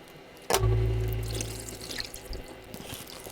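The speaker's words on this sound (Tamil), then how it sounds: "நான் 6 லிட்டர் ஊற்றிருக்கேன்." Aavin milk poured from a packet into a container, a sudden close splash at the start settling into a steady low pouring rush that fades over a few seconds, with no talking.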